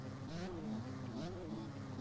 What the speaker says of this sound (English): I hear a whole lot of rev limit.